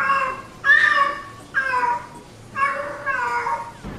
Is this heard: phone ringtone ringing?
no